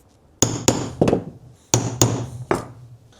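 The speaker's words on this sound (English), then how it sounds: "So let's get these holes punched and then throw some rivets in." Leather hole punch struck by a hammer while punching rivet holes in a leather tool roll: six loud, close thumping blows in two groups of three, with short pauses between groups.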